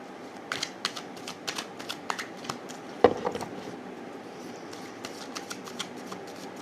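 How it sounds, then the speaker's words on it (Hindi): Tarot cards shuffled by hand in a quiet indoor setting, a run of soft, brisk riffling snaps with one sharper tap partway through, close and fairly faint with no talking. "तो कार्ड मैंने कर लिए शफल।"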